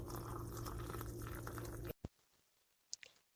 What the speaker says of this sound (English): I'm just going to add my hot water